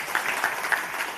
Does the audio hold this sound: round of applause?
yes